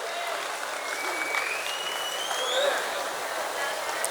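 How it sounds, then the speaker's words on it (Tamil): Steady, dense applause from an audience at a prize-giving for a student speech competition, continuous and fairly loud throughout with a faint murmur of voices. "உங்களின் பலத்த கைத்தட்டலோடு அவருக்கு பரிசு வழங்கப்படுகிறது"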